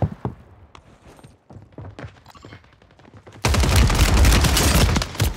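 Gunfire in Call of Duty Warzone, a few sharp shotgun blasts amid footsteps and game noise, then a sudden loud sustained burst of heavy firing near the end.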